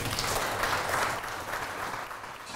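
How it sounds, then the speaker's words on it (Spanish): A church congregation applauds during a sermon, a steady wash of many hands clapping together that holds evenly and eases slightly toward the end, moderately loud with no voices on top. "Dale un aplauso a Dios"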